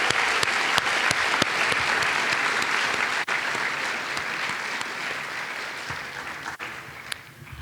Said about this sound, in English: giving a round of applause for all of our award winners